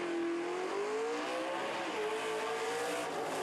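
A 1969 Plymouth Barracuda drag race car accelerates hard down the strip, its engine whine climbing steadily in a long continuous pull, heard from a distance over broad track noise.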